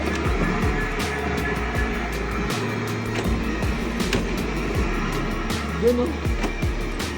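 A drift racing video game car engine drones and revs with repeated gear-shift changes in pitch, a loud continuous mechanical hum; a voice briefly speaks.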